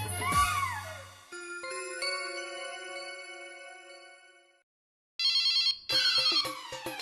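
A telephone rings in a domestic comedy scene. Sustained bright chiming tones are followed by a short gap, then a burst of trilling rings layered with musical notes.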